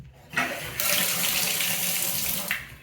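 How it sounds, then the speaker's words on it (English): Steady stream of water pouring from a bathtub faucet just after a leak repair, a loud continuous rush that starts abruptly and cuts off near the end. "then turn the water back on, which I've already done"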